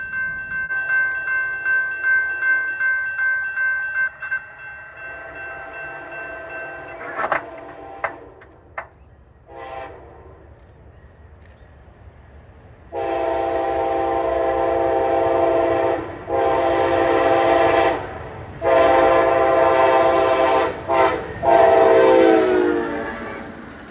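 Amtrak Capital Limited passenger train led by an ALC-42 locomotive in Phase 7 paint sounds a loud, sustained multi-note horn in several long blasts, then rumbles and clatters past close by with further horn blasts.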